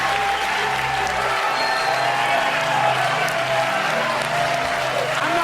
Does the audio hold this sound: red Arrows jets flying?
no